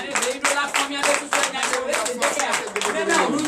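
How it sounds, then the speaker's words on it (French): A church congregation claps during a Sunday service in Comè, Benin, with rhythmic, regular clapping close and loud under continuous speech or singing. "Donnez l'acclamation à notre Seigneur"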